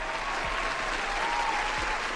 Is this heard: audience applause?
yes